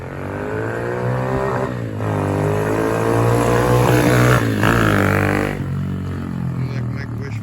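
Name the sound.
RPS 110 pit bike engine revving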